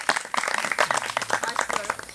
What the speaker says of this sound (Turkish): Bir kere kendinizi alkışlayabilirsiniz arkadaşlar.